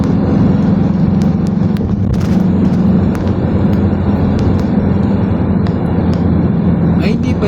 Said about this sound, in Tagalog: Malakas ang traffic dito.